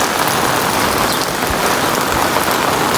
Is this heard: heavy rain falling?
yes